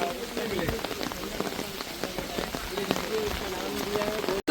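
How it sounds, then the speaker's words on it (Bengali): Heavy monsoon rain in the Sundarbans patters densely on surfaces close by, a continuous hiss of drops that cuts out abruptly at the very end. "প্রচুর বৃষ্টি পড়ছে।"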